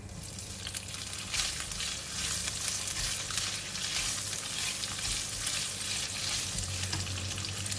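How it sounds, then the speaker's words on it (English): Tofu fries in a hot pan for stir-fried yee mee noodles, giving a steady, close sizzle and crackle with a low hum underneath and no voices. "we're going to now fry the tofu"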